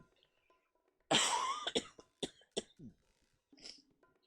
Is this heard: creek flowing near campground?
no